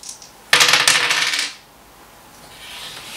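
Dice tumbling and clattering across a table during a dice game, one sharp burst of rattling bounces lasting about a second, then quiet.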